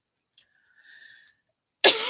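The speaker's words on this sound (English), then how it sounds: "I'm sorry to cough in your ear." A single sharp, close cough bursts out near the end, loud and abrupt after near silence and a few faint small sounds.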